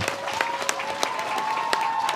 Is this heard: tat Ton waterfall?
no